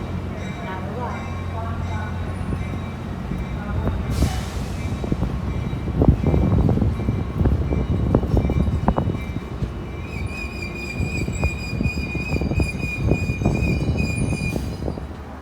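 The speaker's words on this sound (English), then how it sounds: "Amtrak train number 543 is now on the move again" Amtrak passenger train number 543 rolling near Oakland's Jack London Square, close and loud, with rumbling wheels, repeated clanks over rail joints, and high metallic wheel squeals rising partway through.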